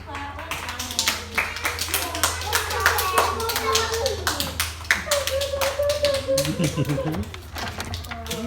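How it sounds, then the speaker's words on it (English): Several people clap for a young girl at an airport arrival, a sustained run of sharp hand claps over steady background hum while adults and someone talk throughout. "Give her a clap."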